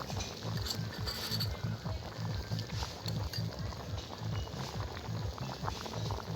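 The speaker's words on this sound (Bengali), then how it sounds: "তরকারিটা ফুটে উঠেছে" A pot of curry with yam and Vola fish boils steadily, its low, rhythmic bubbling and plopping continuing evenly at moderate volume throughout.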